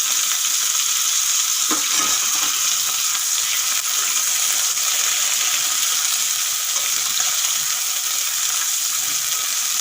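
Eggplant pieces fry in hot oil over a high flame, a steady dense sizzle running the whole time with a few faint scrapes near the start, close and even, no voices.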